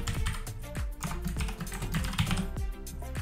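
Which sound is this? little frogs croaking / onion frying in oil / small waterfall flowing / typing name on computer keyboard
typing name on computer keyboard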